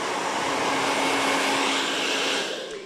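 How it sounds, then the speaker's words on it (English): A hair dryer blows steadily and loudly at close range while hair is blow-dried, a continuous whooshing airflow with a faint motor whine that tapers slightly at the end. "now we're going to get real serious about this blow dry"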